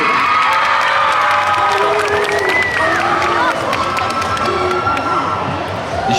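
A crowd at a cosplay contest during a gaming convention in Montpellier cheers, whoops and claps loudly and continuously, with shouting children's voices rising over the sustained applause.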